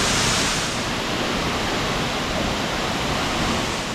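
Constant roar of a waterfall in Fiji, the first Bouma waterfall on Taveuni Island, broad and steady throughout, with no voices or breaks.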